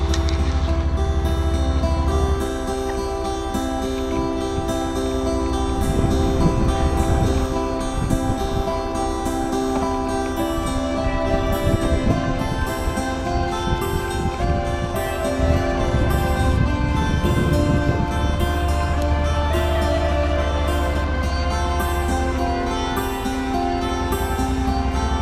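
A brand-new leftover 2014 motorcycle rides out toward downtown Blue Ridge, its engine a steady loud drone with low harmonic rumble, rising and falling through gear changes over the whole ride.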